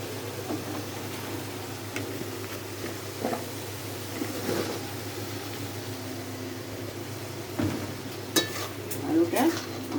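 Potatoes go into spiced hot oil for a small-fish curry, sizzling softly under scattered scrapes and clinks of a spoon stirring the pan, with a faint steady hum behind.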